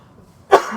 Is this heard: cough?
yes